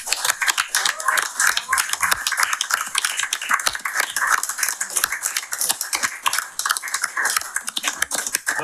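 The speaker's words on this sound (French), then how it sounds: "On s'applaudit." Audience at the close of a town council meeting in Grande-Rivière applauding, a dense, steady wash of many hands clapping that runs the whole length without letup.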